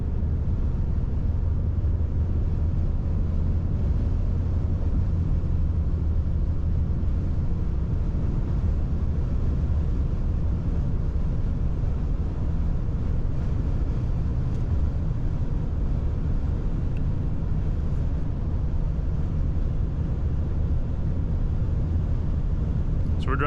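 A 2025 Ram 2500 Cummins diesel pickup cruises at about 70 mph straight into a headwind, giving a steady low road and wind roar inside the cab that stays constant throughout.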